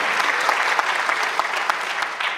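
Steady applause from an audience at a legislative-process lecture, dense and continuous for a couple of seconds with a few sharper claps standing out.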